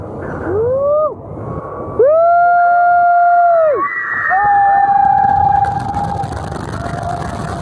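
A Cedar Point roller coaster plunges down its drop while riders let out long rising and falling screams, loud and close, over rushing wind and rumbling track noise.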